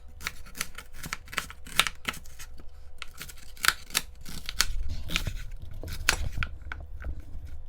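A kitchen knife cutting an onion in half on a cutting board, heard as a series of close, crisp taps and crunching slices at an uneven pace, then a duller thud and rustle, with no talk.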